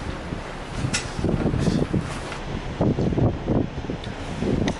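Chilly wind gusts across a cruise ship balcony on a Norwegian fjords voyage, a steady broadband rush with louder swells that rises and falls without pause and nothing else distinct above it.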